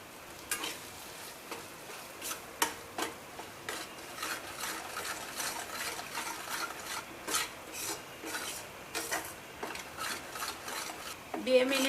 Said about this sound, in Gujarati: બે મિનિટ આ લોટને શેકીએ